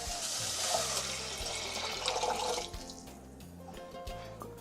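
Water poured into a soup pot while making white bean soup, a broad splashing rush that runs steadily for a few seconds, then eases into a lighter trickle with faint clinks.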